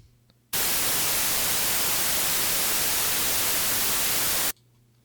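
Unfiltered white noise played through a Pure Data drawable EQ, a loud, flat full-range hiss that switches on abruptly, holds steady for about four seconds, then cuts off sharply.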